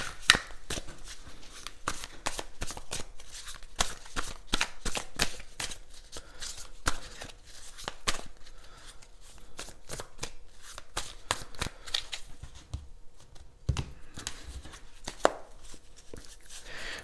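Tarot cards being cut and shuffled by hand, a dense run of quick papery riffles and slaps in irregular bursts, close and fairly quiet, with no talking.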